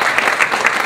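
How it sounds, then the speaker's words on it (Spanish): Dense audience applause for a club group at a gathering, a continuous wash of many clapping hands, loud and close with no voices. "Dense un fuerte aplauso del grupo Club Alegre Vida Nueva"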